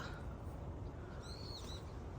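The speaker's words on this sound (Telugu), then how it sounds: "పిచ్చుకు కూడా ఉన్నాయి చూడండి ఎన్ని ఉన్నాయో" Sparrows chirping outdoors on a farm during a South Korean winter: a short burst of a few faint, high chirps midway through, set against a steady wash of background noise.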